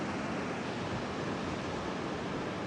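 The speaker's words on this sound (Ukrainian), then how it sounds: "Які хвилі здоровезні." Large ocean waves on a wide beach produce a continuous, dense roar of surf, a steady broadband wash with no breaks and no voices.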